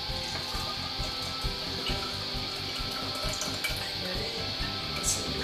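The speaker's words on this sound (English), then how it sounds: "you can take a clean bottle, simply pour the kefir into the bottle." Strained homemade kefir milk pours from a vessel into a clean bottle, giving a steady, continuous liquid trickle and splash at close range for several seconds, with no talking.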